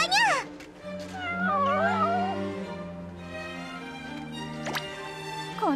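Several drawn-out, wavering cat meows come from the Princess Connect Re:Dive video game, loud and close, with a long rising and falling cry near the start and sharp short mews toward the end.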